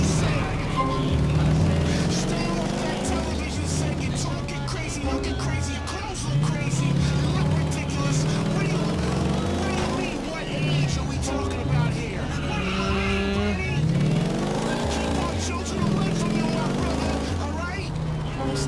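Motorbike engines in a GTA IV street race with Lost and Damned gang bikes, a steady, loud revving drone with rising and falling pitch sweeps as gears shift, continuous throughout under game music and commentary.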